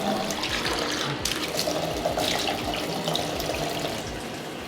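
Water splashed onto a Boosted Board electric skateboard makes a close, gushing pour with uneven splattering bursts that trail off slightly at the end.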